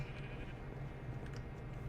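Sheep bleating in Minecraft with the FTB modpack, faint short bleats over a steady low hum, distant and quiet.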